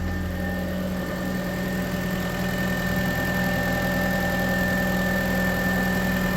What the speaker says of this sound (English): So we're going to take the engine up to pressure, get her warm, make sure that everything's reading right, make sure there's no leaks